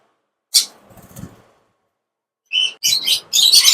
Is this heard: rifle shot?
no